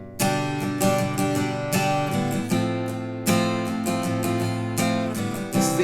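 Full-band instrumental from a country song, the section right after the bridge, with strummed guitar chords and steady band accompaniment playing loud and continuous throughout, with no voices.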